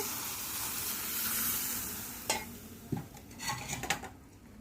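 Hot oil sizzles over garlic being prepared for a raw mango pickle, a steady hiss that eases slightly before a few close metallic clinks and scrapes of utensils.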